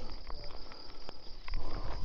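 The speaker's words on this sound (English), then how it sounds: "I don't know if you can hear the crickets" Crickets chirping outdoors in the Picos de Europa mountains on an overcast day, a steady high-pitched insect trill running throughout at moderate distance, with faint rustling underneath.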